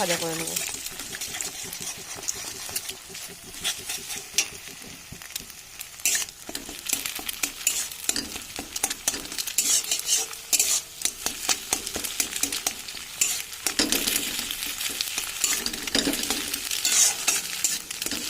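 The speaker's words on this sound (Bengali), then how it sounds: "ভাজা করে নেবো ডিমটা" Scrambled eggs with salt stirred and frying in mustard oil, giving intermittent sizzling and scraping stir strokes at moderate, uneven loudness while a voice talks over parts of it.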